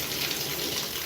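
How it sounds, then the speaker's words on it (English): Hot and cold running water pours from a tap in a horse barn, a steady, moderately quiet gushing stream with no speech. "hot and cold running water"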